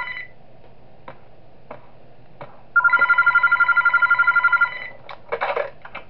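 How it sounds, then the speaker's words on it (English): A telephone rings in the horror game Those Nights At Wario's 3, a steady rapid trill of repeated electronic bursts lasting about two seconds, loud and clear over a low hum and scattered clicks, followed by a short burst of noise. "Now I gotta call the phone on Ashley."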